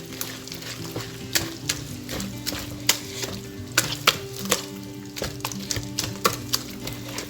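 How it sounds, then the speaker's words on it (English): A spoon stirs cassava batter mixed with egg, sugar, butter, coconut milk and vanilla extract in a bowl, giving irregular clicks and soft wet scrapes over a low hum. "Now I am mixing the cassava with egg, sugar, butter, coconut milk and the vanilla extract."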